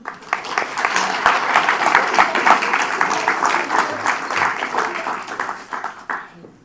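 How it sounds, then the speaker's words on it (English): Audience at a symposium on machine intelligence clapping for a professor, a dense burst of applause that swells, holds steady, then thins and stops near the end. "Let's give a professor a small applause."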